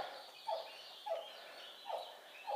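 Baby guinea fowl give four short, evenly spaced chirping calls, faint and fairly distant, with no talking.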